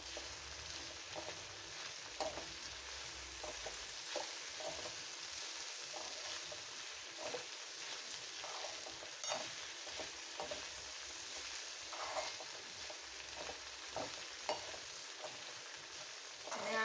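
Kankoda (spiny gourd) curry with coriander-cumin, chili powder and garam masala stirred in a hot pan, a faint steady sizzle with soft irregular scraping stirs, close but quiet, no voices.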